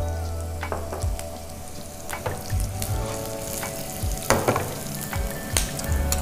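Fenugreek and coriander seeds fry in oil in a pan for a coastal village-style fish curry, sizzling steadily up close, with a spoon stirring and scraping at intervals.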